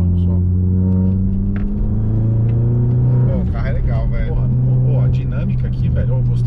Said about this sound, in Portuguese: dá uma acelerada na frente do dono só pra isso